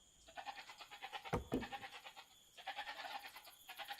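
Goats bleat in the video game Age of Empires II, with several short nasal calls arriving in bursts at moderate loudness, close and clear with no talking over them.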